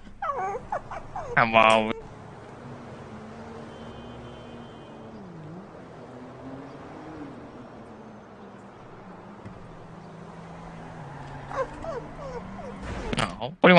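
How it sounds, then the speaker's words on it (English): A dog whimpering and yipping with high whining cries near the start and again at the end, a low engine-like hum in between, and someone speaking briefly. "And a dog."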